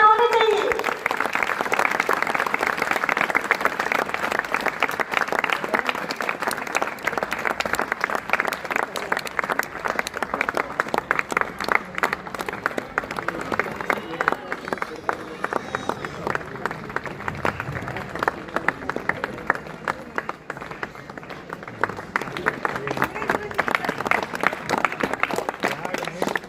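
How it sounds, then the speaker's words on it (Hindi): Audience applause for a row of mothers at a religious gathering: sustained, dense clapping from a large crowd, loud and steady for the whole stretch with slight dips and swells. "जोरदार तालियां तो बजा दो भैया।"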